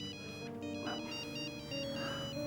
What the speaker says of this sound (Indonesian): saya terima telepon dulu dari istri saya